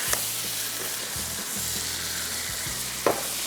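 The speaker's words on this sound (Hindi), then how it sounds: "इसके बाद अब इसको हमने तेज़ आंच पे फ्राई करना है" Coriander and spices fry over high heat with a constant, even sizzle, with a low hum running underneath and a short clink of a utensil near the end. No voices are heard.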